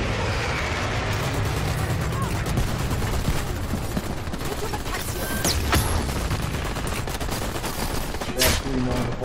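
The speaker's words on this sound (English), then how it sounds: "Airstrike incoming!" Dense bursts of gunfire and explosions from an airstrike rattle continuously through a Dirty Bomb first-person shooter match, with sharp cracks and rumbling blasts piling over one another and a few louder hits near the end.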